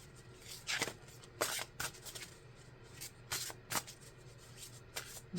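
Tarot cards shuffled by hand, quiet close riffling bursts and soft rubbing strokes in an irregular rhythm, with a faint background hum and no talk.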